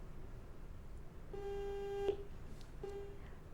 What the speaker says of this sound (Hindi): हमारे एक कॉलर हमसे जुड़े हुए हैं, उनसे हम उनका फोन कॉल ले लेते हैं।